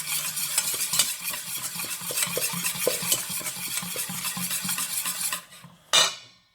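Fish soup mixture with garlic purée being stirred in a pot, a steady scraping swirl with rhythmic utensil clicks against the pan, continuing for several seconds before a brief pause and one final louder scrape.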